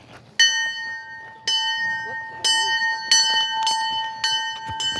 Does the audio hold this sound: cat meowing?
no